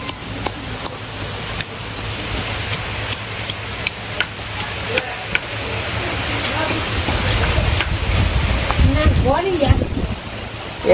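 Wind gusts and steady rain on a rainy village day while vegetable khichuri is cooked outdoors; broadband rushing noise grows louder toward the end, with a few sharp knocks and a voice talking briefly near the close.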